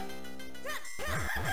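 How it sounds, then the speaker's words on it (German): Chicken clucking in the video game Zelda Minish Cap: a short run of synthetic, rising-and-falling cluck sounds against a steady game music bed, loud and close, with no talking. "Da unten ist das Huhn, das ist sehr geil."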